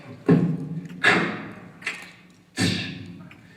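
A voice imitates a snare drum, four sharp percussive hits spaced unevenly, each a punchy burst with a short hissy tail, close and alone.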